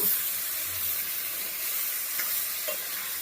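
Ginger paste frying in hot oil in a pan, a steady loud sizzle throughout with a few faint clinks of stirring.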